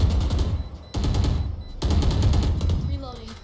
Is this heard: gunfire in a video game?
yes